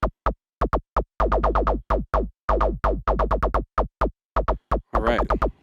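Short, snappy synth blips from a WMD Javelin module, with tight attack-release envelopes, fire off in quick irregular bursts, punchy and loud with clean gaps of silence between hits.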